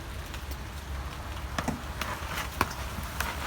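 Rain falls steadily outdoors around a house and garden, a dense hiss dotted with sharper drips and taps, fairly close with no talking.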